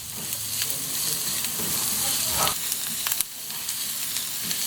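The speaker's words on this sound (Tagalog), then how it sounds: "Mahalagang igisa natin ng maigi ang mga aromatics natin" Onions sautéing in a hot pan for a beef dish, with a continuous close sizzle and soft stirring scrapes, no voices over it.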